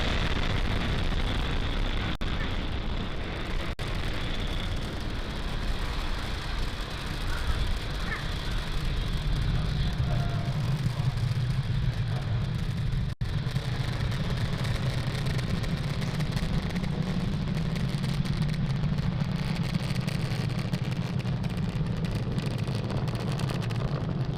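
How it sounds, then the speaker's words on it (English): A SpaceX Falcon 9 rocket lifting off from Cape Canaveral, heard as a continuous distant roar and rumble that deepens and thickens partway through, with wind buffeting the microphone and no break in the sound. "as you can see, Falcon 9 has cleared the tower"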